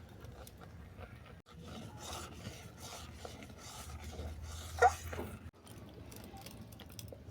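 Steady stirring of jackfruit seed sandesh with sugar and crushed cardamom in a pan, a soft continuous scraping and rubbing close by, with one brief sharper scrape near the end.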